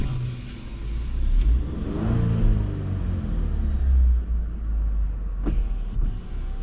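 A Chevrolet Silverado 4x4 work truck's turbo engine revs loudly up close, a deep rumbling roar that swells and eases over several seconds, with a couple of sharp mechanical clicks near the end.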